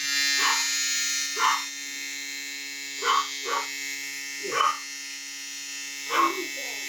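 A BRD Clip G27 electric hair trimmer hums continuously with a harsh, unpleasant tone, while a dog barks several times in short bursts nearby.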